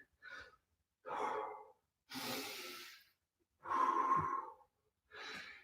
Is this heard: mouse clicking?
no